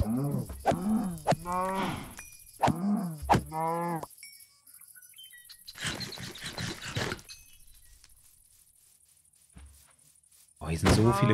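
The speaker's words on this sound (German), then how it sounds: "Oh, hier sind so viele Kühe, das ist richtig gut." Several Minecraft cows moo in quick succession, loud and close with harmonic, drawn-out lows, followed by a noisy rustling stretch and a sudden burst at the end; a faint high whine runs through the background.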